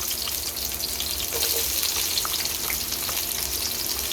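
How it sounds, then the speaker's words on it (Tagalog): Garlic and onion sauté in a pan for ginisang sayote, a steady crackling sizzle that fills the short stretch with fine popping, close and even, without speech. "magigisa na tayo. Bawang."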